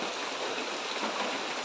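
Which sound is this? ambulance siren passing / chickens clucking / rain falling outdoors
rain falling outdoors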